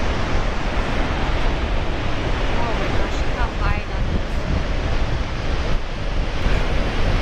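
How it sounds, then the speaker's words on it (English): Strong wind buffeting the microphone on a seaside cliff above the ocean, a loud, continuous rushing roar with surf mixed in and no clear pauses. "it's a little windy"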